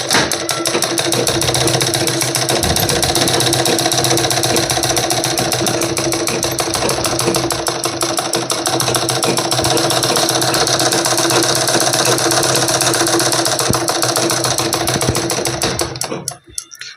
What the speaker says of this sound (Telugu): ఫస్ట్ ఒక హ్యాండ్ అనేది తీసుకున్నాక కుట్టు అనేది కుడదాము.